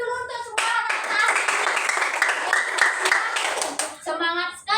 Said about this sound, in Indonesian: tepuk tangan dulu untuk semua anak-anak